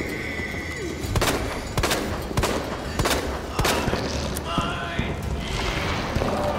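Gunfire in the Resident Evil 2 video game, aimed at a monster's eye: about seven sharp shots at uneven intervals over a rumbling, busy game background.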